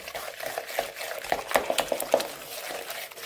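An egg gets mixed into creamed muffin batter for banana bran muffins, a close sequence of quick tapping clinks from a utensil against a bowl, with soft wet stirring between them.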